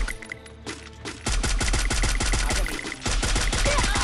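Rapid gunfire in a multiplayer shooter video game, bursts of sharp, loud shots that start after a quiet second and continue nearly nonstop with a short break near three seconds.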